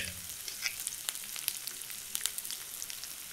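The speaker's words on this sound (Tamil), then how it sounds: "வெங்காயம் நல்லா பொன்னிறமாக வரும் வரைக்கும் வதக்கிக்குங்க." Onions fry with ginger-garlic paste and turmeric in a pan for chicken curry, a soft, fairly faint sizzle broken by scattered sharp crackles and pops, no voices.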